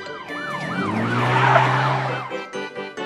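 A loud wailing siren from a cartoon police car sweeps up and down over a low engine hum, close by, then cuts out into a few clattering knocks.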